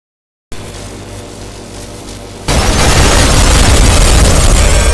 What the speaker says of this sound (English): instead of calling it a railgun, it's a rail cannon